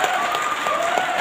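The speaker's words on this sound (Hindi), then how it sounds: "हम पुराने एसोसिएट से आग्रह करेंगे कि इनके स्वागत में बात जोरदार ताली होना चाहिए" Steady, dense applause from an indoor audience welcoming a new associate at a business meeting, continuous clapping throughout with a faint tone humming underneath.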